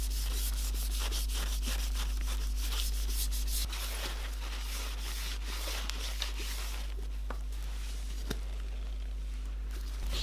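Tissue soaked in acetone rubs over paint-covered Gucci hi-top sneakers, avoiding the leather and suede, giving soft, close scrubbing strokes in a steady rhythm against a low hum.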